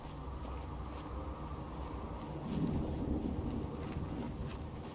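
A thunderstorm in Fallout 4, with a steady wash of rain and a low, rolling rumble of thunder that swells midway through, close and continuous.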